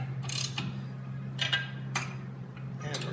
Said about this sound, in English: tightening that last half inch bolt to lock the receiver in place